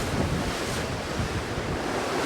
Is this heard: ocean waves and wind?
yes